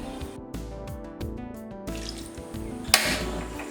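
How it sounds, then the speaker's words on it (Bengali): Water runs steadily into a pan of cut hog plums for a few seconds, with a brief louder splash near the end; no one speaks. "আমি এতে পানি দিয়ে দিব।"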